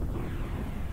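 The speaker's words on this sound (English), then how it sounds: "Firing the main cannon." Deep rumbling roar of a main cannon firing in the Xenogears video game, a single sustained low blast filling the whole moment.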